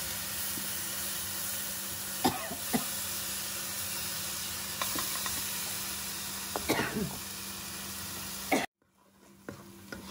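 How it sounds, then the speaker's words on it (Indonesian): Ground spice paste of blended aromatics and candlenuts sautés in oil with a steady close hiss, broken by a few sharp knocks and scrapes of a utensil, then cuts off abruptly near the end. "ini bumbunya yang tadi aku haluskan, aku tumis"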